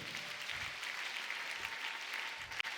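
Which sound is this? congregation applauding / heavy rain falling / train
congregation applauding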